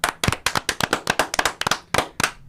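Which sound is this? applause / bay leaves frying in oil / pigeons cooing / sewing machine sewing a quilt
applause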